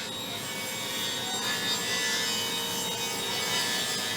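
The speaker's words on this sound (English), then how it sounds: "Here I'm using 3/4 inch Baltic birch plywood, and I'm ripping it to the size I need for the sides of the carcass." A saw rips 3/4 inch Baltic birch plywood for the sides of a bar cabinet carcass, a steady, fairly quiet rasping cut through wood with slight swells, no voices.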